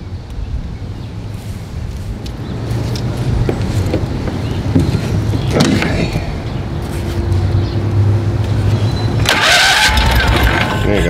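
A 20hp Kohler Magnum engine on a Simplicity Sunstar tractor, ignition recently wet, cranks and catches near the end, a loud rising burst over steady rumbling background noise.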